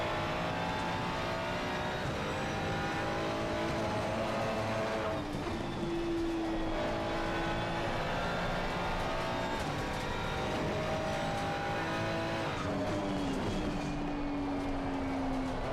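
A McLaren Artura race car lapping Kyalami in a sim racing game, its engine note steady and loud, rising and falling through gear changes with no talk over it.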